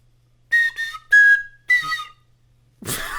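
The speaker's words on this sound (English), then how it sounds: "I will now play on that on a slide whistle" A slide whistle plays a short tune in four bright sliding phrases with a held swooping note, loud and close, then a sudden burst of noise at the end; no talking over it.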